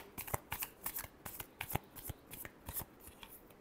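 Tarot cards being shuffled, giving a quick run of crisp papery riffles and flicks in an irregular rhythm, close and fairly quiet, with no talking.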